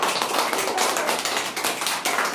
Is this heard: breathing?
no